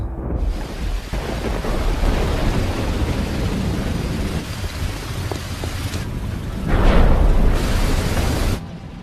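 Heavy rain roars steadily while thunder rumbles through it, swelling louder near the end before easing off.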